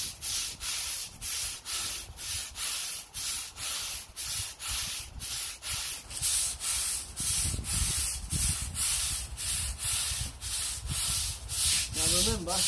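A stiff brush scrubs sodium hypochlorite into a concrete driveway in steady rhythmic back-and-forth strokes, close and loud, soft-washing without a power washer.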